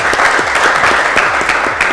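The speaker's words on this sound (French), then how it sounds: "Merci beaucoup de l'applaudir." An audience at a live game event in Lubumbashi applauds steadily with dense, continuous hand claps, loud and close throughout, with no talk over it.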